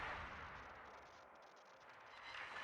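Naval high-explosive shells firing from a warship in a naval combat video game, a continuous rumbling barrage of booming gunfire that stays loud and dense throughout with no voices.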